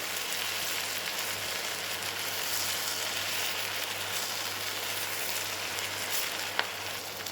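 Lentils frying in a pan as they are stirred: a steady, soft crackling sizzle continues throughout, with one sharp tap of a utensil near the end and no talking.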